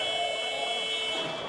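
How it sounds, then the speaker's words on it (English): At an under-20 ice hockey game between Spain and Lithuania, a loud, sustained end-of-period buzzer blares steadily over crowd and arena noise. "And the buzzer sounds"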